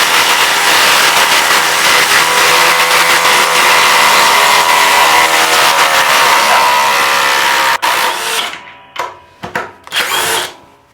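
A brushless impact driver backing a spade bit out of wood runs in a loud, continuous whine for about eight seconds, then stops and fires in several short bursts.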